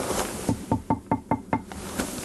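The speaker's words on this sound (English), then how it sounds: "That's the sound of porcelain" Knocking on a porcelain toilet in a bathroom: six evenly spaced, hollow, hard knocks in a quick steady rhythm, close and fairly loud, with a faint room tone around them.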